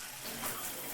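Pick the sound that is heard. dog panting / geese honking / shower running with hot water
shower running with hot water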